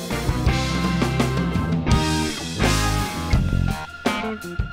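Funk song from an early-stage debut album recording, a full band groove with punchy bass, drums and chords playing continuously and loud throughout.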